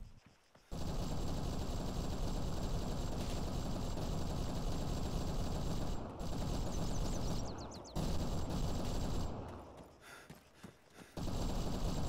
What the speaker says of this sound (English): Someone's in some sort of Gatling gun somewhere